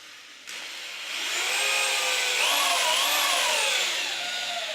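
Power drill driving screws into pre-drilled wood, a loud close whirring motor that rises in pitch and holds steady for several seconds before cutting off, with no talking.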